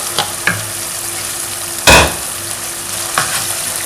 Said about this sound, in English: Now I want to add my fried plantain.